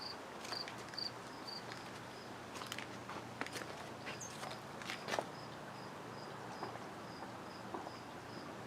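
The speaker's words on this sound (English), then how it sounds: "I hope you can hear the crickets in the yard." Crickets chirp in a steady, evenly spaced rhythm outdoors, quiet and somewhat distant, with faint rustles and small ticks in the background.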